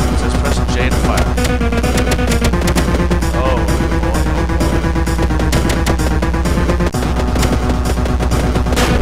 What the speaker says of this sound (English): Shotgun. This will even the odds a bit. It says press J to fire.